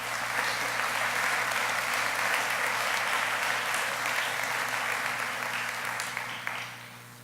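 Audience applause welcoming a speaker at a 2016 patch ceremony, a steady dense clapping from a crowd that holds for several seconds and then thins out near the end.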